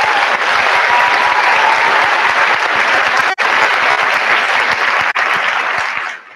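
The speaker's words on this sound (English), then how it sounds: "Thank you for the applause" A large audience at an evening talk breaks into loud, sustained applause, a thick steady roar of clapping that holds evenly before tapering off at the end.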